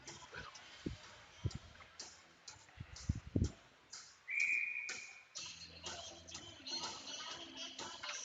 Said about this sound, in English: And we'll get a whistle.